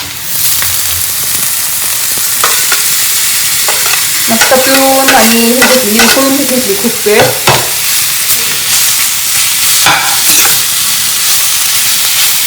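Bafli wild greens and onion stirred and fried in a pan, loud and close, with repeated scraping strokes over a continuous sizzle while someone talks.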